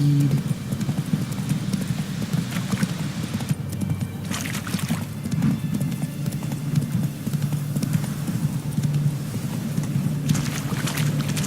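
Horse hooves clip-clopping steadily at a walk in the video game Witcher 3, a continuous rhythmic plod over a low rumbling game ambience, with no voices.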